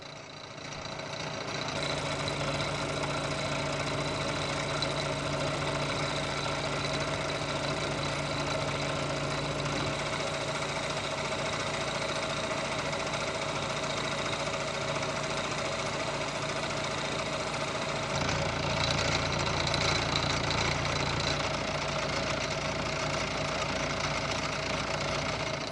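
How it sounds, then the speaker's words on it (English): A milling machine cutting a metal workpiece by conventional milling, a steady continuous mechanical hum with a constant motor tone and a slight shift in pitch and texture partway through. "I decided to go back and just do pure conventional milling"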